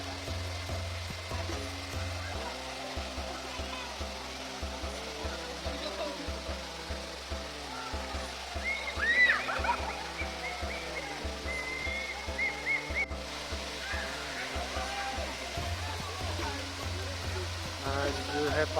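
Mawsawa waterfall in the Meghalaya jungle near Shillong and Cherrapunji pours as a steady, hissing rush of falling water that continues without a break while people talk over it.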